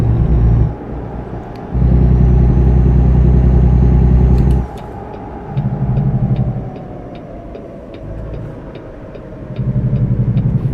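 Peterbilt truck engine in American Truck Simulator, loud and close, surging in heavy rumbling bursts that drop back between revs, with faint periodic clicks above.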